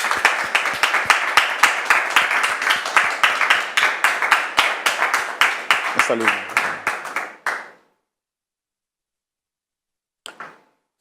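Studio audience on a French television talk show bursts into loud, sustained rhythmic clapping for several seconds, stopping abruptly, with a brief spoken greeting near the end and a short burst of clapping afterward.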